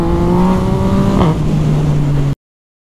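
A car engine revs and holds a droning tone as the vehicle pulls away, the pitch dipping once midway, loud and close before cutting off abruptly.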